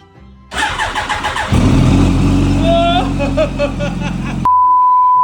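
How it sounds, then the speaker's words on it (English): Rebuilt, previously wrecked 2005 Yamaha R1 motorcycle with a new flywheel and starter clutch, cranking briefly before the engine catches and runs loud and close with uneven revving, then cuts off, leaving a thin steady tone. "we finally got the R1 to start up all by itself"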